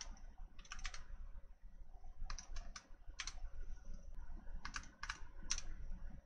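Quiet clicking of computer keyboard keys in short clustered bursts while a name is typed during a Windows setup, with low room hum between the bursts.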